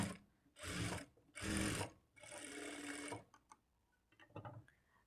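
A sewing machine stitches a lined blouse in several short, close whirring runs separated by pauses, followed by a few soft clicks and taps of the fabric being handled.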